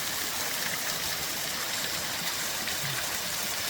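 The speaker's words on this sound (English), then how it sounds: "There's waterfalls out here." Mountain creek with waterfalls spilling into a pool, a steady broadband rush of flowing water, close and continuous with no voices.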